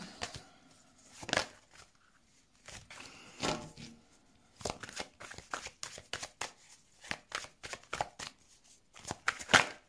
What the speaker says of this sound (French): s'il n'y a pas d'autres cartes, on va faire le tirage